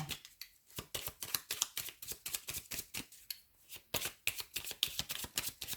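A deck of Lenormand cards is shuffled close up in quick, rhythmic riffling bursts that repeat steadily throughout, with no voice.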